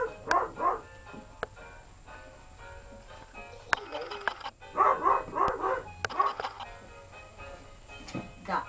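Puppy barking and yipping in short bursts, moderately close, with people talking over and between the barks.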